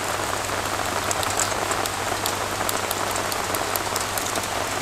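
Rain falls steadily outdoors onto surfaces near covered firewood, a dense, even patter with scattered sharper drop hits, continuous and unaccompanied by talk.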